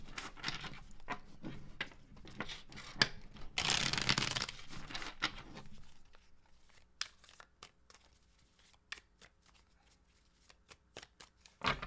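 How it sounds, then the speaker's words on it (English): Tarot cards being shuffled by hand, with a dense riffling burst of crisp paper flicks followed by sparser, separate card taps and slaps, close and moderately loud with no speech. "2 more shuffles"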